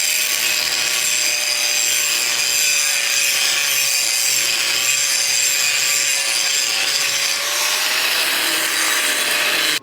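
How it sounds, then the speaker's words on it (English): Rust is cleaned off steel before welding, a continuous loud abrasive grinding roar with a steady whine that runs unbroken at close range and cuts off at the very end. "So let me just clean the rust off this."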